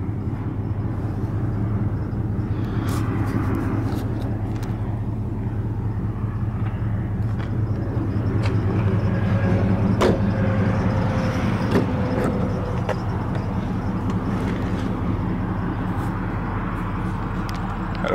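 A 2003 Dodge Ram 1500 SLT pickup with the Hemi V8 idles steadily nearby, a continuous low rumble with a faint mechanical hum and no speech over it.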